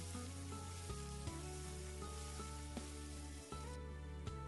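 Scallion, ginger, dried shrimp and shiitake mushrooms stir-fry in a wok with minced pork, a steady sizzle under a constant low hum, broken by a few soft spatula knocks.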